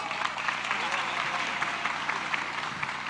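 Continuous applause from a hall of young entrepreneurs at a national declaration of support for Prabowo and Gibran, steady overlapping clapping at moderate distance with a faint murmur of voices beneath.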